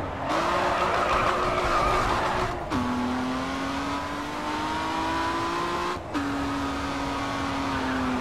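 A BMW M1 Coupé, fully tuned, races through a night racing video game with a sustained engine drone and long tire squeals, the pitch dropping sharply at each gear shift, loud and continuous.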